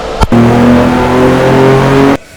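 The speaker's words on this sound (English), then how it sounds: "Let's hook it up to the dyno and see what it does." A BMW M4 Competition xDrive, a G82 Jahre Edition, strapped to a hub dyno lets out a loud, sustained steady-pitch engine drone that holds for about two seconds after a brief sharp start, then cuts off abruptly.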